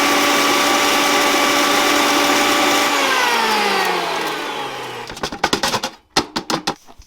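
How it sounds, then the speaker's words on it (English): A feed mill grinding whole oats and corn holds a loud, steady whirring drone that winds down in pitch over several seconds, then breaks into irregular clattering knocks and bangs. "So we're gonna toss this in the mill,"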